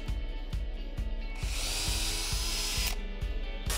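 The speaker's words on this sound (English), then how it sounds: "I also drilled some holes to relieve some of the stress." A power drill bores stress-relief holes in cherry wood for a saddle bar stool, its motor whirring close and loud with a rhythmic pulsing chatter, then a brief surge in pitch as the bit cuts through.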